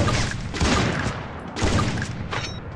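Sustained bursts of rapid gunfire from a squad-based shooting video game, dense and loud, with brief lulls between volleys and no voices.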